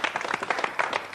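RC Lens football supporters clap in a studio audience, a quick patter of individual handclaps that are distinct and close, steady for the brief moment.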